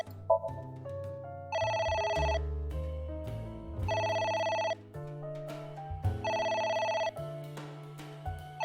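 A telephone rings in the video game AI: The Somnium Files, with three long bursts of electronic trilling set against a steady game music bed and no voices.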